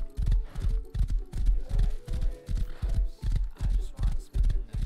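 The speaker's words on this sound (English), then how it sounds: "Should be illegal how fast this horse is." Horse galloping in the video game Rust, a steady fast clip-clop of hoofbeats in even rhythm, loud and close throughout, with a low rumbling thud on each stride.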